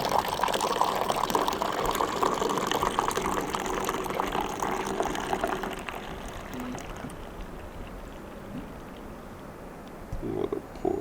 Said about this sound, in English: he does the long pour to give us a real elegant froth to our coffee